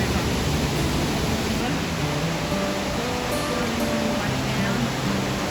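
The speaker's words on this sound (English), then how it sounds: "It really is so lovely walking right by the river." An Alpine river rushes through a gorge in a steady, broadband wash of flowing water, close and continuous, with faint traces of voices under it.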